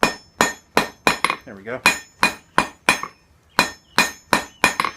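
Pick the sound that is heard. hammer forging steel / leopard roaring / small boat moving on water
hammer forging steel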